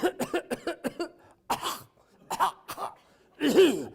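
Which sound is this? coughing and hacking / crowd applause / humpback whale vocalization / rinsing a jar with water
coughing and hacking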